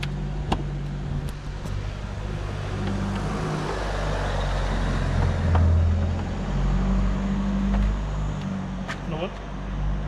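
A car engine runs steadily with a low, constant rumble throughout, heard from close by with people talking over it.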